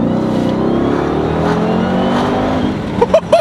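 A 1000 HP Dodge Durango Hellcat running on E85 accelerates hard with a loud, rising engine roar heard from inside, ending in a few sharp bursts.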